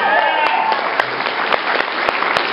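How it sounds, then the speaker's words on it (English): Audience applause at a Philly Comic Con panel, loud and continuous clapping with sharp individual claps standing out and a voice heard over it. "All right, round of applause for the..."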